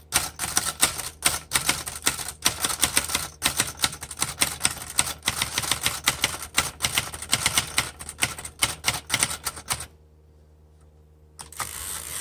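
A 1935 Underwood Noiseless Portable typewriter typing in a rapid, uneven stream of dull muted key strikes, loud and close, with a short pause near the end before the keys resume.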